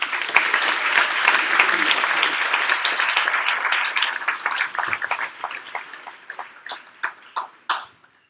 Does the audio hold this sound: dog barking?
no